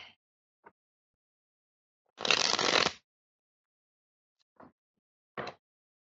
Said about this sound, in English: Give me a moment while I shuffle the cards, Ava.